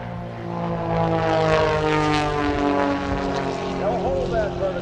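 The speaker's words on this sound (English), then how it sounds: "dive from that altitude at full throttle for the speed needed for the next maneuver" Propeller bombers roar in a full-throttle dive at an air show in Memphis, a loud sustained droning engine growl with rising pitch, heard under a commentator's voice.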